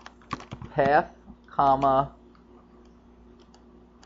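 A few quick keyboard clicks sound as a SQL query is typed for an Oracle ASM database instance, then someone speaks over faint, sparse tapping.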